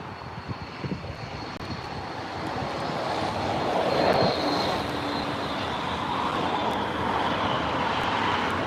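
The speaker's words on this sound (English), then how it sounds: "that was a really early rotation from that PC-24." Pilatus PC-24 business jet taking off from runway 14 at Leeds Bradford Airport, a steady broadband jet roar at moderate distance that swells to a peak midway, then holds as the aircraft climbs away.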